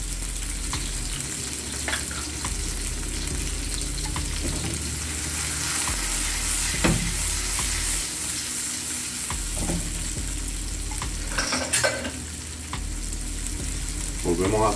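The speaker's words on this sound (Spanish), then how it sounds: "Salteo un poquito Y voy a adicionar junto con el pimiento la cebolla." Red bell pepper and onion sauté in a pan as a sofrito base for Cuban ropa vieja, giving a steady close sizzle with occasional scraping clatters from stirring.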